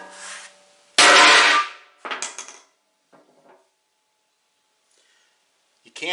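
A hammer strikes an aluminum Savvy fuel tank on a 1997 Jeep Wrangler, one loud, sharp metallic bang, then a softer second knock and faint rattles in a quiet space.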